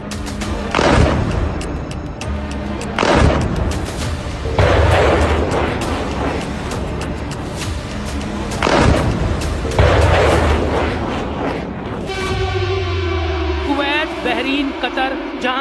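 Missile strikes and air defense fire produce repeated heavy booms and bursts at uneven intervals, some distant and some louder, with a voice talking in between.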